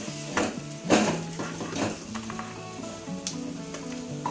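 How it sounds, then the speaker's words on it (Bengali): Paneer pieces sizzle in a pan, with a soft frying hiss broken by several sharp clinks and scrapes of a utensil lifting pieces out one by one. "পনিরগুলো আমার সব ভাজা হয়ে গেছে, সব এক এক করে তুলে নিই।"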